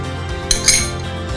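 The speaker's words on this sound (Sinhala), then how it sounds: "දැන් අපි මේකට සීනි තේ හැන්දක් ඇඩ් කරගන්නවා." A teaspoon clinks against a glass twice in quick succession while sugar goes into an orange mojito, bright metallic taps close up over a low steady hum.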